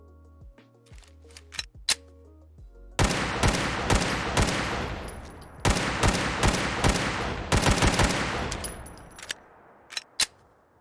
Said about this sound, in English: show off those custom firing sounds